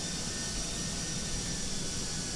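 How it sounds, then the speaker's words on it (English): Jet engines of a ToLiss A320 airliner in X-Plane 12, a continuous loud whooshing roar with a high whine layered on top, steady throughout and with no voices. "I'm disappointed again with the engine sounds, not gonna lie"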